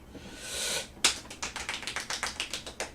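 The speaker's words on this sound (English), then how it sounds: "Golf clap." A slow golf clap, about a dozen light, evenly spaced claps from a single person, close and fairly quiet, preceded by a brief hiss and a sharper first clap.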